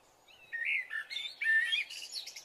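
A small bird chirps in a series of quick, bright tweets close by against a quiet background, in a cartoon story about a sparrow nesting in a leafy forest tree.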